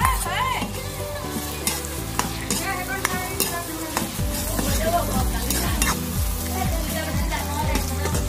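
Onions frying with salt, garlic, tomato and chili in a hot pan, giving a loud continuous sizzle with frequent close stirring scrapes and clinks of a spoon against the metal.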